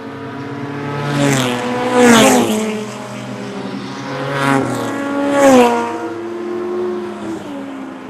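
Pro 4 modified race cars roar around a short oval during a heat race, engines rising and falling as several cars pass close by in loud waves, with a steady drone between passes.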